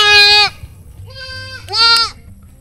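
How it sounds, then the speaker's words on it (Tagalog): A plump goat on a farm gives a sharp, loud bleat up close, then two more quavering bleats follow in quick succession, the second quieter than the third. "Taba tong kambing na to."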